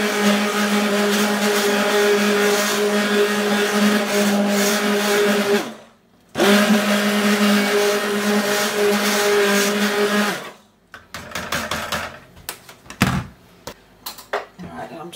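A blender whizzing a homemade tomato and vegetable soup, a loud steady whirring drone that cuts out briefly, restarts and runs on, then stops, followed by clattering and handling noises.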